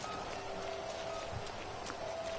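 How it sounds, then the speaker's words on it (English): Steady rain hisses continuously in Grand Theft Auto Online during a vehicle time trial, a dense even patter with faint taps, moderately quiet and unbroken throughout. "Fucking shitty fucking rain."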